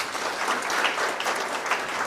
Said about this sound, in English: Madam Auditor General requires another round of applause.